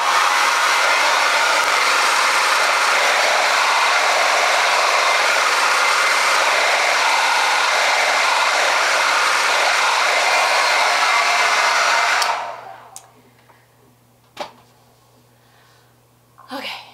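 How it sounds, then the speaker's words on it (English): Hair dryer blow drying wavy, curly hair, a loud steady roaring whoosh that runs for about twelve seconds and then cuts off, followed by quiet handling sounds and a brief voice. "Now the blow drying is complete."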